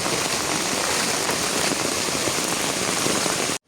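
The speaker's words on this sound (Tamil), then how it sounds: "அடை மழை பெஞ்சு கொண்டு இருக்கிறது" Heavy rain pours down steadily during a flood in Jaffna, a dense, continuous hiss of drops drumming on surfaces, loud and close, stopping abruptly at the very end.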